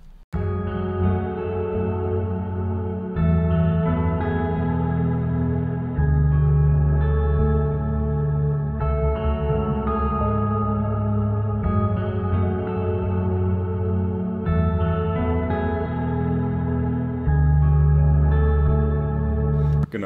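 Sustained, heavily reverberant synth chords with long echoing tails, washing continuously with no voices.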